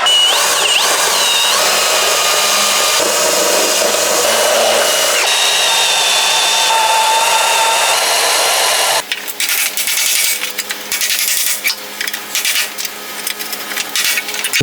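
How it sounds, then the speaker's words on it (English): A power drill bores out spot welds on the bottom of a rusty car body being prepared for a patch panel, a loud continuous high whine with shifting pitch and harsh grinding and chatter as the bit bites metal. "I need to drill out a couple spot welds on the bottom."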